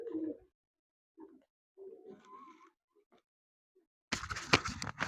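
Pigeons coo in soft, low murmuring calls scattered across the clip, with quiet gaps between, then a burst of louder, broadband flapping or rustling near the end.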